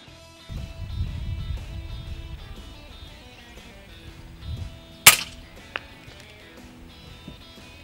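A single sharp, loud crack from an FX Impact air rifle fired at pigeons during a hunt, close by, followed by a faint click, with quiet rustling and handling noise before the shot.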